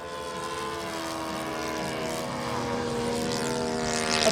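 RC model airplane passing overhead at an air show, a steady droning propeller buzz that grows slightly louder toward the end, continuous with no talking.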